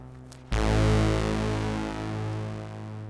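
Korg MS-20 synthesizers, a new kit and an original, sounding a sudden sustained tone with rich harmonics that slowly beats and sweeps as the two drift against each other, loud and steady with no talk.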